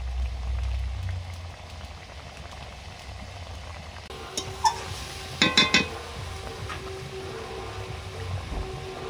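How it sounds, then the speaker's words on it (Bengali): Fish curry broth seasoned with salt and turmeric boiling in a pot, a steady low bubbling simmer joined midway by a few light clinks. "ঝোল ফুটে গেছে, মাছগুলো দিয়ে দিলাম"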